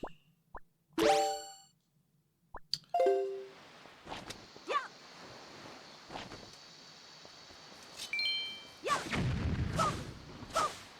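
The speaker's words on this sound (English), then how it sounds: "this entrance is blocked. Oh no, it's okay. I can open that with bombs." Bombs blast open a blocked entrance in the video game Zelda: Wind Waker, with several sharp game explosions and thuds spaced across the stretch, plus smaller plops and effects in between at moderate volume.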